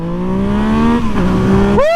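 A 2020 Yamaha MT-09 motorcycle engine revving close and loud, holding a steady drone before a quick rising blip of the throttle at the end.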